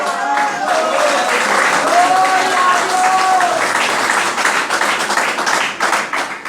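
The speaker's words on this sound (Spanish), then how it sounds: "Dele un aplauso al Dios de Job." A church congregation applauds steadily and loudly throughout, with a musical tone or voices faintly mixed in beneath the clapping.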